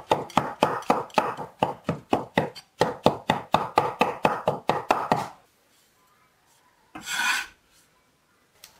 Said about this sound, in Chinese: 洗净的香菇切成碎丁